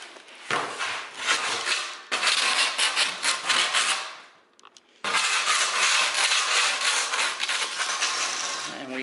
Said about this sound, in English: we can turn it into a stand-up scraper. So we're not on our hands and knees, bending over, trying to remove all the residue of the pad.